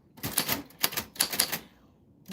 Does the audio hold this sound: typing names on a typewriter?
yes